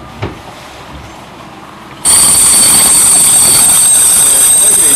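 A local train stands at Tábor station, heard up close: a quiet stretch with a single knock, then an abrupt, loud, continuous high-pitched whine and hum from the train that holds steady to the end.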